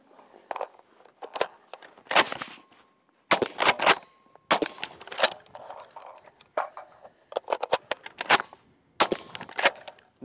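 Troy PAR 308W rifle fired outdoors at a range, producing a string of sharp, loud gunshots at irregular intervals, each with a short crackling tail, separated by quiet gaps.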